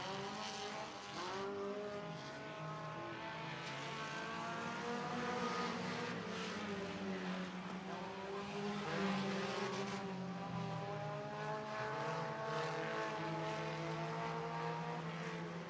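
IMCA modified race cars roaring around the dirt track at Sunset Speedway Park, a continuous loud engine drone with rising and falling pitch as cars pass, heard from a distance without talk.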